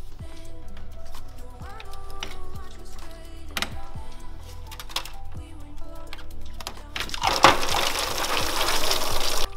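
Coolant gushes from a removed lower coolant pipe on a Mazda MX5 Miata. After quiet workshop background and light clanks, a loud rushing splash of liquid starts near the end and keeps pouring steadily.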